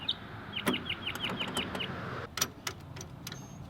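Outdoor birds, led by a rooster's sharp crow, call over steady background noise, with a quick run of repeated chirps followed by a few scattered louder calls.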